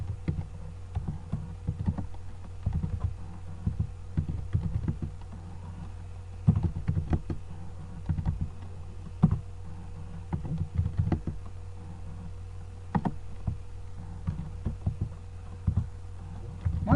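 Keys on a computer keyboard are tapped while typing commands, giving quiet clicky bursts with short pauses and a few sharper single strokes over a soft low hum.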